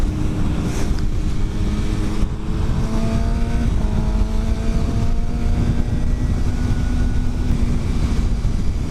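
A motorcycle cruising on the road, a steady engine hum with gliding pitch shifts as it changes speed, wrapped in constant heavy wind roar, close and sustained with no talking.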